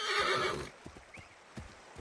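A horse in the video game Assassin's Creed III gives a loud, short whinny, then a few soft hoof clops follow in the quiet.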